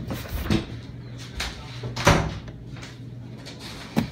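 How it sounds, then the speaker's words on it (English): A door is shut a few times, with sharp nearby thumps at irregular intervals over a quiet indoor room. "Shut the door"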